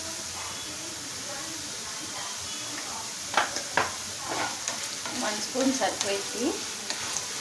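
Thinly sliced bitter gourd frying in a pan with chili powder, a soft steady sizzle with occasional spoon scrapes and stirring clinks, faint and close, with a voice speaking over it.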